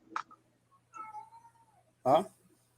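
A house cat meows a few times at close range: a short call, then a long drawn-out meow, and finally a louder, harsher cry, with quiet gaps between them.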